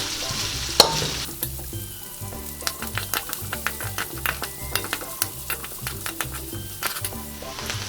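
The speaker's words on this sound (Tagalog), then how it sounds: "Ngayon po ay isusunod na natin ang ating luya at saka ang ating bawang. At hahaluin lang po natin." Ginger and garlic sizzle loudly in hot oil for a Bicol Express, with a sharp clack near the start and then rhythmic scraping and tapping as the spatula stirs them through the pan.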